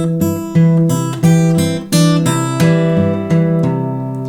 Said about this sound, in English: when you play it strictly on the beat, stripping away any syncopation, sounds like this